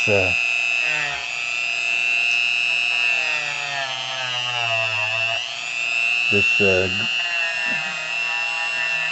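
Hyper Tough rotary power tool polishing the feed ramp of an SCCY pistol, a loud steady high-pitched whine that holds through the clip with brief dips in pitch as it bears on the metal, while someone talks over it.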